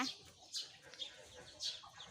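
Newly hatched Muscovy ducklings on a home farm give faint, high peeps in scattered short bursts, several spaced chirps over a quiet background.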